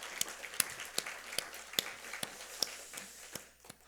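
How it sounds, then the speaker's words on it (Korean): Scattered clapping from a church congregation during a Sunday morning worship service, a loose patter of hand claps and sharp individual slaps, moderately faint and spread across the room with no talking. "우리 찬송 가운데 임하신 하나님께 감사와 영광의 박수 올려드리겠습니다."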